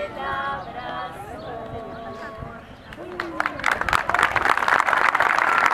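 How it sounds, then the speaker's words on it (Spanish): Audience applause for a children's performance swells in the second half, dense clapping building loudly after a stretch of singing and talk over a sung melody. "Fuerte, fuerte el aplauso para estos nenes."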